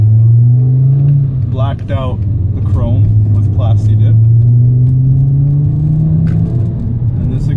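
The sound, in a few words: Mk5 Jetta exhaust with resonator delete revving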